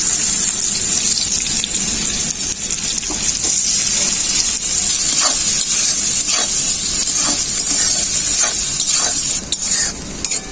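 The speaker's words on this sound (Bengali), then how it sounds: "পেঁয়াজ ভাজা হয়ে গেছে।" Chopped onions fry in mustard oil in a pan. A loud, continuous close sizzle is broken by occasional clicks and scrapes of stirring, with no talking.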